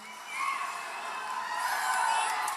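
A large rally crowd in St Augustine, Florida cheers and shouts in a sustained roar that swells and stays loud, with whoops carrying over the mass of voices.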